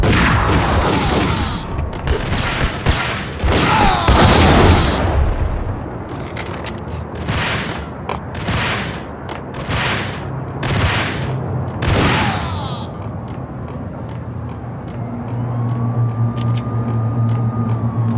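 Video game gunfire from Max Payne on iOS: rapid bursts of shots and booming blasts crowd the first half, then thin into scattered reports and a low rumble with a rising whine near the end.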